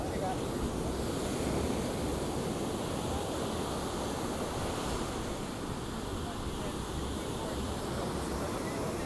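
Ocean waves roll and break steadily at Praia Brava beach in Itajaí, Santa Catarina, Brazil, a continuous broadband surf roar with wind noise buffeting the microphone throughout.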